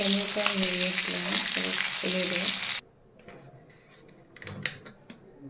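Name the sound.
prawns frying with ginger garlic paste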